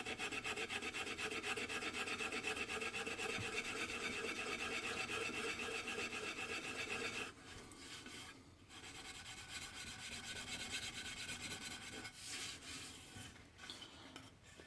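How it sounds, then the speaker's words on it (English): Steel wool rubs back and forth over a wooden gunstock during refinishing, a continuous close scratchy rasping that pauses briefly a few times before resuming. "The main purpose of this steel wool is to not only blend, but to take off the real tall hairs and fibers, make it a smooth finish."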